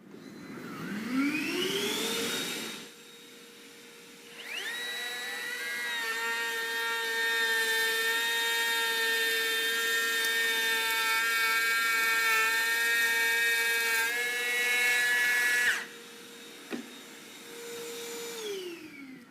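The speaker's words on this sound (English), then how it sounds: "let's demo the new router" A new Bosch router spins up to a loud, steady high-pitched whine and runs for about ten seconds while cutting wood, then winds down. A shorter burst of the motor follows at the very end.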